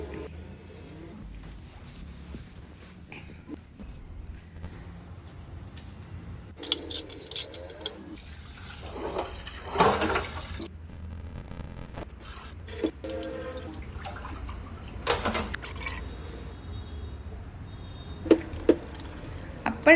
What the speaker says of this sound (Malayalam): ഉപ്പും നാരങ്ങാ നീരും ഒഴിച്ച് നല്ലതുപോലെ കഴുകി വൃത്തിയാക്കി എടുത്തതിന് ശേഷം